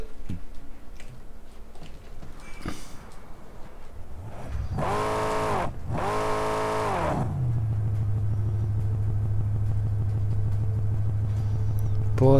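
Car engine in the video game Mad Max, a steady rumbling drone that rises in pitch with a brief revving surge midway, then settles into a continuous low hum, with game sound around it.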